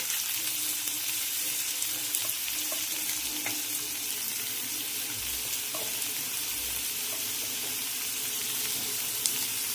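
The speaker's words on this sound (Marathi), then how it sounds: "तर टोमॅटो सॉफ्ट होईपर्यंत मी हे परतून घेणार आहे" Tomatoes and cashew seeds sauté in a pan for a Marathi dried-fish curry, giving a steady, even sizzle and hiss close up, with faint scraping of a spoon now and then and no voices.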